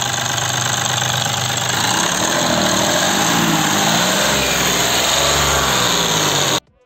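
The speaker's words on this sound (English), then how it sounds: "The engine also sounds normal. The turbocharger is functioning well." A Mahindra Bolero's turbocharged diesel engine idles up close, a loud, steady clattering rumble with a knocking texture that continues evenly before cutting off abruptly near the end.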